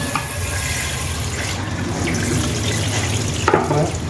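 Water pouring into a cooking pot in a home kitchen, a continuous rushing splash that holds steady for several seconds and ends with a brief louder slosh.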